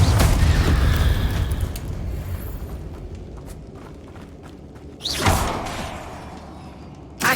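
Confringo blasting spell from Hogwarts Legacy going off: a loud, broad burst opens the clip and fades, then a second sharp blast hits near the five-second mark, with a short thump at the end.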